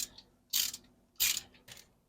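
A ratchet tightens double nuts on a Pontiac engine during water pump and timing chain cover installation. It makes three short, close bursts of clicking separated by quiet pauses, with no talking.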